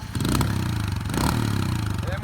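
A cheap used motorbike's engine runs loudly and close by with a throaty, steady chug and a slight rev as throttle is added, and a person talks over it.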